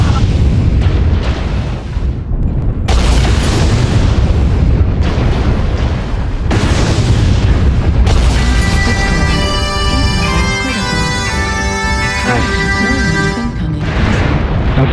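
Artillery strike in the MechWarrior game. Dense, loud booms and explosions rumble continuously and overlap. Ringing metallic tones and electronic effects rise in the second half.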